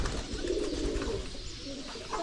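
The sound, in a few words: pigeons cooing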